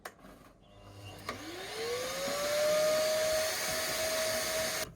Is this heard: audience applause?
no